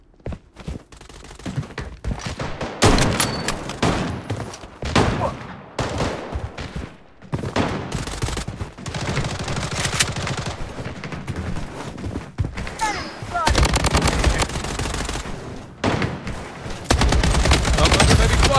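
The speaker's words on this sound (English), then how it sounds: "I'm under heavy fire." Heavy gunfire from the Blood Strike video game in a squad ranked match, with dense bursts of automatic fire and fusillades coming in loud, repeated volleys with short pauses between them.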